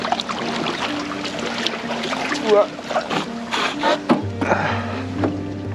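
A kayak moves along the Rio Guadiana, with paddle strokes splashing and dripping in an uneven rhythm close by over a soft bed of flowing water and light wind.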